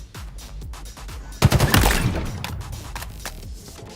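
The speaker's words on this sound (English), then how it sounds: "It's a lot of battle rifles right there." Battle rifle gunfire in a Halo Tactical Slayer match: a sudden loud cluster of overlapping rapid shots erupts, then fades to scattered cracks and distant pops, with no talking.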